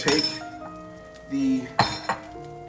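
Metal utensil stirring boiling ramen noodles in a kitchen pot, with clinks and scrapes against the sides in two short bursts, fairly close and moderately loud, alongside other faint kitchen clatter.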